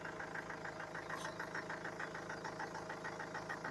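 A 2016 Mahindra XUV500 engine idles steadily at close range, a constant mid-pitched drone with a regular pulsing rhythm and no talk over it.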